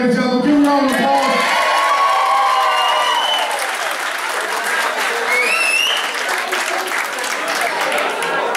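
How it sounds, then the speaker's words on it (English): At a 2015 boxing show, the crowd breaks into loud, sustained applause mixed with cheers, whoops and children's shouts, with voices calling out over the clapping throughout. "Give a round of applause."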